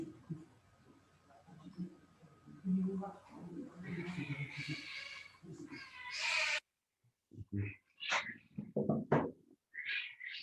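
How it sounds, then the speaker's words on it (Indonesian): A cat meows several times indoors, its calls mixing with a person talking nearby during a meeting. "ada kucing ini."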